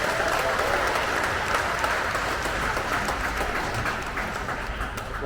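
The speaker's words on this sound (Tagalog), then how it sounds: "Pumalakpak kayo sa Panginoon." Steady applause from a church congregation during a holiday service in the Philippines, a dense wash of clapping that holds throughout and fades slightly near the end.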